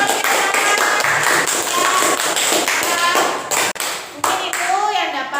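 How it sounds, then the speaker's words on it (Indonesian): A classroom full of people applauding, loud, dense clapping mixed with tapping and thumps, with voices chattering underneath. "tepuk tangan lagi buat kita semuanya"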